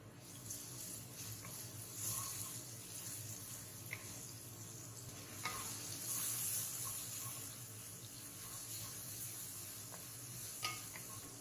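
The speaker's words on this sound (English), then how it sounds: "add in your sliced ginger and add in your minced garlic and stir fry for 1 minute" Sliced ginger and minced garlic stir-fried in a wok for tripe with chives, giving a steady low sizzle with scraping stirs and occasional clinks, fairly faint and without talk.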